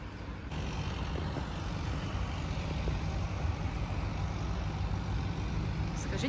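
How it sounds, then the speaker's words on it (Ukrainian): A tractor engine works somewhere in a quiet, sparsely populated residential area of Mukachevo, Ukraine, giving a continuous low, steady rumble that holds without breaks throughout. "Ось там ми бачимо трактор"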